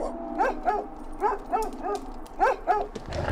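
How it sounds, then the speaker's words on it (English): Dogs in city streets, feral after people vanished, give a run of yelping, whimpering barks in three clustered pairs over steady low background rumble, fairly close and moderately loud. "On the streets of the cities, dogs have gone from pets to predators."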